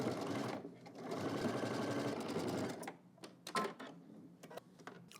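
A sewing machine stitches the crotch seam of a pair of shorts, whirring in one steady close run, then stopping and starting in short bursts.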